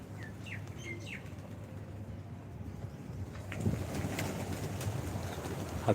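Pigeons' wings flap in a brief flurry amid soft outdoor morning ambience, followed by more scattered fluttering and shuffling of the birds nearby.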